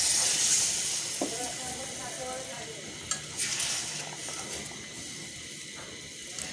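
Gravy goes into a pot of cooking taro, with a strong steady hiss and sizzle close up, some stirring scrapes and soft knocks, and a voice speaking briefly under it.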